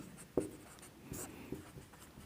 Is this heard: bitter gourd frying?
no